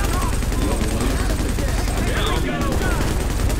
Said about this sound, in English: I just shot at the civilian thinking he was an enemy.